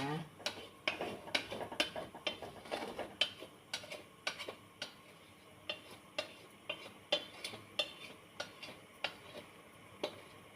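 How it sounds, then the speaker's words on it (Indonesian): A rice mixture being stirred before steaming, with a spoon knocking and scraping against the pot in a steady series of close, light ticks. "Nah, kita aduk lagi, baru kita kukus ya."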